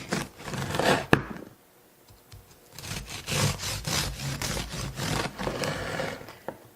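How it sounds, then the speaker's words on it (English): Bread knife sawing through a sourdough cornbread loaf with a butter crumble topping, close scraping and rasping strokes in bursts with a pause between slices. "Let's take some slices of this sourdough cornbread with a crumble topping."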